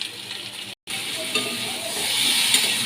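Taro stems frying in a pan with prawns and a spoonful of sugar, a loud continuous sizzle with stirring scrapes, cut by a brief silent gap before the sizzle returns and grows slightly stronger.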